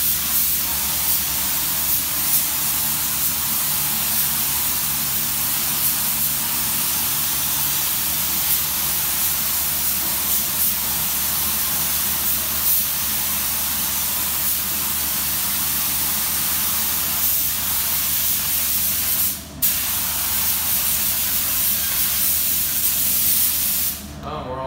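A Harbor Freight Spectrum 1.3 paint gun sprays a final car paint coat in one loud, unbroken hiss lasting over twenty seconds, with a short dip near the end where the trigger is briefly eased.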